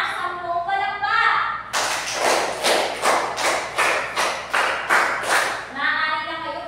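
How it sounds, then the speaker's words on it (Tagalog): Ten brisk, even hand claps from a classroom of students in a social studies lesson ring out together in a steady burst, with a voice speaking just before and after. "Bigyan din natin sila ng 10 palakpak."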